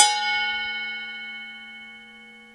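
A struck 40-tooth Bosch wood-cutting circular saw blade rings out like a bell, a clear sustained tone with bright overtones that slowly fades over a couple of seconds.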